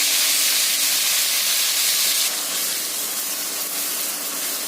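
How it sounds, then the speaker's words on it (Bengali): Onion and green chilli paste sizzles loudly in a hot pan for a mutton curry, a dense steady hiss that drops slightly in level halfway through and carries on unbroken with no talking. "এবার ওতে আমি পেঁয়াজ আর কাঁচা লঙ্কা বাটাটা দিয়ে দেবো।"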